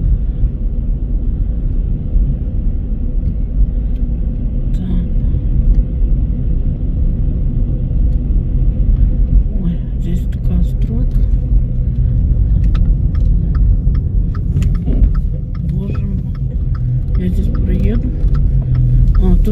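A car drives along a road with a steady low engine and tyre rumble, while a person talks intermittently over it.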